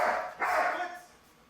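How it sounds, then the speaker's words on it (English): A Doberman puppy barks loudly in two close bursts during an obedience training session, the yaps fading off toward the end. "She started barking at me there"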